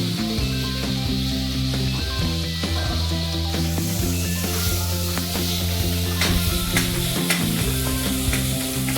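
Masala of chopped tomato and onion frying in a pan for mushroom biryani, with a steady close sizzle and repeated scraping stirs throughout, over faint background music.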